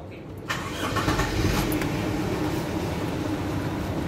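A 1979 Toyota Corolla KE30 engine fires after a single brief crank and settles into a loud, steady, close idle that runs to the end.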